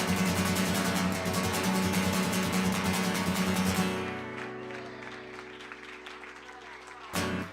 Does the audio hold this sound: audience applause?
yes